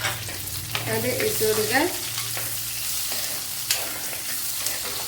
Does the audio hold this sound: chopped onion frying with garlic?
yes